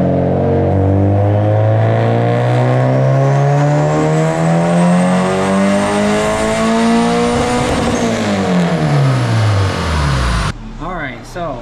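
A Honda D16Y8 engine in a turbocharged EK coupe on a dyno at 8 to 10 PSI revs loud and close, pitch climbing steadily for about ten seconds before the throttle lifts and it drops away.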